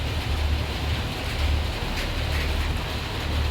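Rain falling outdoors during an evening meal in rural Thailand, a loud, dense, continuous hiss with a low rumble underneath and no talking.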